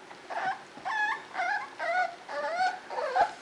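Puppies whimper in a series of about six high, wavering whines, close and fairly clear, each cry rising and falling in pitch with short pauses between.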